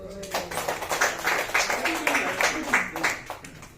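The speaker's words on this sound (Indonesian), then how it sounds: "Tepuk tangan dong." Scattered clapping from a small audience at a seminar, distinct sharp claps with an uneven rhythm rather than a dense roar, with voices talking over part of it.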